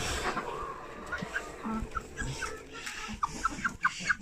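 Several young hens cluck and murmur close by in a henhouse in the evening, short clucks growing busier toward the end, over soft rustling.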